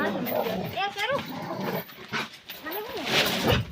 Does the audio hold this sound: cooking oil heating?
no